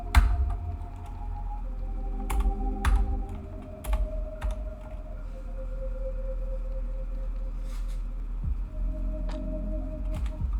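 Typing on a computer keyboard, quick bursts of key clicks with pauses between them, close by over a low background hum and no voices.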